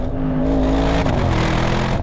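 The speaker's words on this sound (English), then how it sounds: "how much more of the V8 can you guys hear versus the standard car coming through into the cabin?" Audi RS 6 Performance V8 engine in dynamic mode, heard from inside the cabin as a loud, steady, deep drone with a low harmonic hum held through the whole stretch, without speech.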